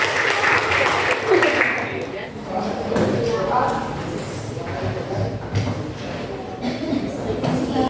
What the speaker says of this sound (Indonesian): Bagus sekali, beri tepuk tangan.